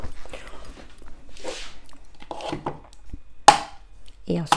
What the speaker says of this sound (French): je vais venir casser mes œufs